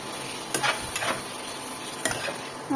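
Paneer and potato sizzling in a hot pan as they are stirred, with a steady frying hiss and a few distinct spatula scrapes and taps, close up and with no voices.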